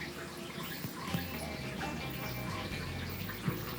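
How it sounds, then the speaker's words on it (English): A shaken Green Stem cocktail is poured into glasses, a steady trickling liquid stream with a couple of soft clinks, close and continuous with no speech. "we're gonna pour this into the glasses here and see if the green stem stays a green stem"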